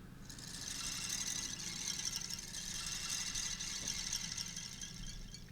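Shakers set to mimic rain, a steady soft hiss of rattling grains held continuously throughout, alone at moderate level over a faint low rumble.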